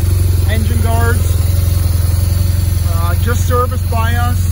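Steady low engine idle from a 2012 BMW R1200 GS Triple Black edition with 18,000 miles, running continuously close by while someone talks over it throughout.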